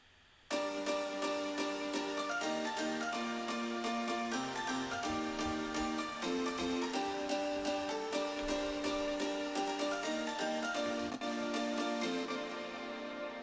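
Nexus piano synth keys sustain layered chords in a dance track, bright steady harmonic tones shifting every couple of seconds over a soft low pulse, heard on their own.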